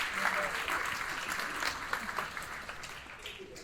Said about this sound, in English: Let's give a big round of applause for Todd, who's here.